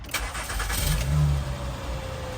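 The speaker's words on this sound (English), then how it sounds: "So what we're going to do is we're going to go ahead and start the car." A Honda Pilot engine cranks and catches close by, sounding a short starter burst and a brief rev, then settling into a steady low idle in a garage during a rear brake job.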